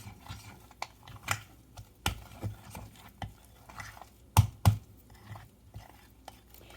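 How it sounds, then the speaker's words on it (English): Sweet potato biscuit dough being stirred in a bowl, with irregular soft scrapes and knocks, a few sharper clunks of the spoon against the side, fairly close and moderately quiet, no talking. "So I'm going to stir this together."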